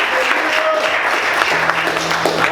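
A church congregation bursts into loud, sustained applause, dense clapping from many hands with faint voices mixed in beneath it.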